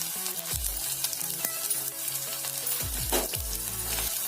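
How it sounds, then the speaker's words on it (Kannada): Garlic, mustard seeds, urad dal and cumin fry in melted ghee for a raw tomato chutney tempering, a steady, close hissing sizzle throughout with a few low tonal swoops over it. "ಚೆನ್ನಾಗಿ ಫ್ರೈ ಆಗಬೇಕಿದು. ಕಲರ್ ಚೇಂಜ್ ಆದಷ್ಟು ಫ್ರೈ ಮಾಡ್ಕೊಳ್ಳೋಣ."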